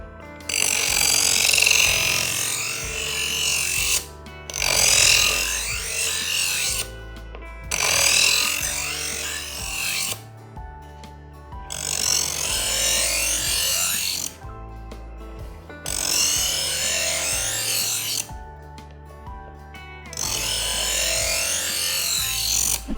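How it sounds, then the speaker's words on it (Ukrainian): A Procraft EM100 electric knife sharpener grinds a knife on its number 2 stone: a steady motor whine under repeated loud grinding passes of a few seconds each, separated by brief near-silent gaps, close up and with no voices. "Для завершення заточки ножа проводимо ту саму операцію, але на іншому камені номер 2"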